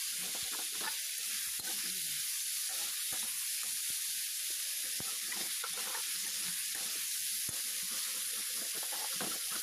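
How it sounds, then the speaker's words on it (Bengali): Potatoes sizzle steadily in a hot pan while a metal spatula scrapes and stirs them, with scattered sharp clicks over a continuous frying hiss. "তো আমি বারবার খুন্তি দিয়ে আলুটাকে নেড়ে নিচ্ছি।"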